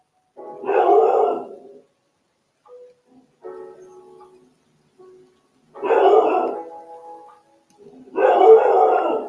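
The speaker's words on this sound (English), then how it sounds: "Sorry for the barking. I truly don't know what she's barking at" A female dog barks and howls in separate loud bursts, close by, with quieter whines and yelps in the pauses between them and no talking.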